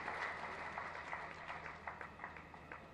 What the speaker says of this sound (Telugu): రెండు వేదిక మీద ఒకసారి చప్పట్ల ద్వారా వారిని ఆహ్వానించాలని కోరుతాం.